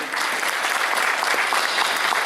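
An audience at an International Day of Indigenous Peoples event in Cajamarca claps steadily in a short, dense burst of applause.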